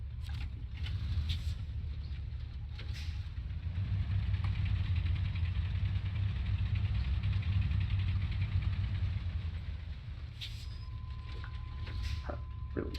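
A truck engine idles in the SnowRunner video game, a steady low rumble that holds throughout with little change in loudness, and a few faint clicks and tones sit above it.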